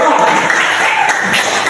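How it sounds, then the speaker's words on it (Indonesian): Class participants applaud together in a classroom, a dense burst of clapping that fills the whole short moment loudly and close by. "Satu, ya, kasih tepuk tangan ya."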